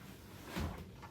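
Storage drawers in a cruise ship cabin on Symphony of the Seas slide open or shut once, giving a short soft thud over quiet room tone.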